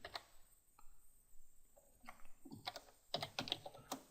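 Quick keystrokes on a computer keyboard during a jQuery coding tutorial, arriving in short irregular bursts with pauses between, fairly faint and close, with no talking.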